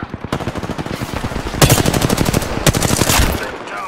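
Rapid automatic gunfire in Apex Legends, loud and close, with dense repeated bursts firing almost continuously and a couple of sharper, heavier volleys partway through, no voices.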